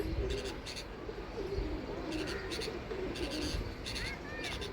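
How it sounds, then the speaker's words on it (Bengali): A bulbul perched by its nest in a jujube tree in a rooftop garden gives a few short, faint chirps near the end over steady outdoor background, with cooing and a voice nearby. "এই যে বুলবুলি পাখিটা এসে বসেছে"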